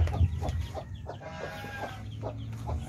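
Chickens cluck softly in short, scattered calls close by, over a low steady background hum.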